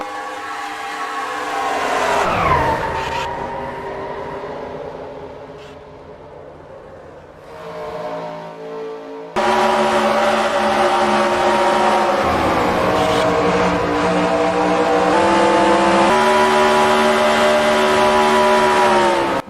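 Race cars driving and spinning in a racing video game at Texas: a loud, continuous whine of engines whose pitch dips and climbs as cars slow and accelerate, then swells into a denser, sustained roar of several engines together.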